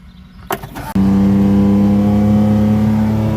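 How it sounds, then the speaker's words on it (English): A corn-hauling truck rumbles past after a couple of sharp knocks, its engine settling into a loud, steady drone with a strong sustained hum close by, no voices over it. "Corn truck."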